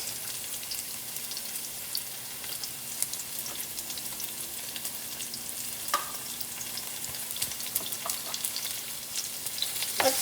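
Onions browning in a pan for mutton biryani, a soft, even crackling sizzle with scattered tiny pops and an occasional utensil tap, fairly quiet and steady throughout with no talking.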